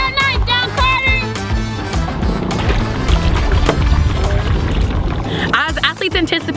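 Racing canoes and kayaks paddling toward the finish of a 500 m time trial on the water at Gig Harbor, Washington, with rhythmic paddle splashing and water wash under loud shouting and coaching voices.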